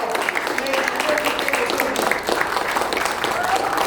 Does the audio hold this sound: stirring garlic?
no